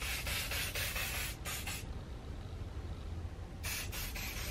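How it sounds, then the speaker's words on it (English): A can of natural-hold hairspray fires several short hissing bursts close by, a pause follows, then more quick sprays resume. "I'm then gonna go ahead and use this hairspray natural hold"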